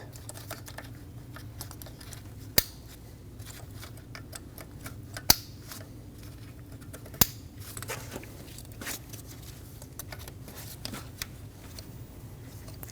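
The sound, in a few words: electrical connectors clicking into place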